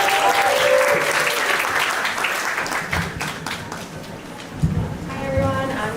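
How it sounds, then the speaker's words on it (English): A live audience at a Muslim writers' iftaar gathering breaks into a loud, sustained round of clapping that fills the room, gradually thinning out toward the end. "Everyone give a loud round of applause for Ikra."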